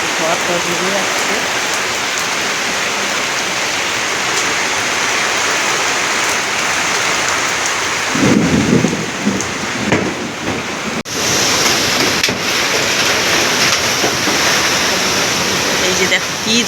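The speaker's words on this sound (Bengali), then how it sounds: "এই যে দেখো কি ঝড় উঠছে" A rainstorm with strong wind roars as a loud, constant wash of rain, with a brief burst of heavier low rumbling and gusting partway through before the downpour carries on.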